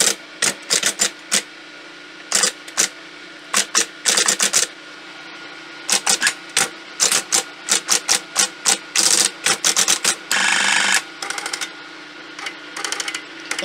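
Keys of an Olympia Monica electric typewriter pressed while the machine is switched off, a long run of sharp mechanical clacks in irregular bursts, close and loud against a low steady hum.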